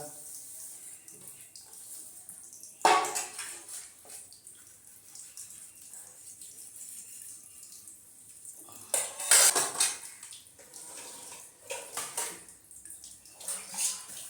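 Dishes, pots and utensils being scrubbed and washed by hand, with clanks of metal cookware, clattering cutlery and running water in irregular bursts, some loud and close.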